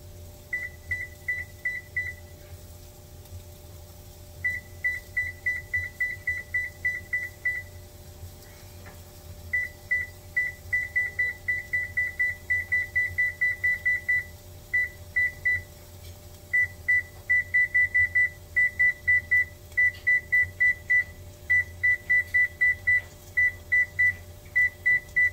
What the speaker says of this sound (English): I'm trying to set the timer for 3 minutes.